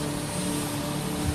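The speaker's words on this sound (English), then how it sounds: "So they're doing engine startup and rotor engagement." Helicopter turbine engine starting up as the rotor engages on the flight deck of a modern warship, a steady loud droning whine with low rumble throughout, no voices.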